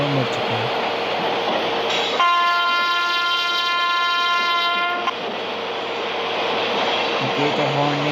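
A WAP-7 electric locomotive on the Mumbai–Vadodara run sounds a long, loud two-tone horn for about three seconds over the constant rumble and rattle of the moving train.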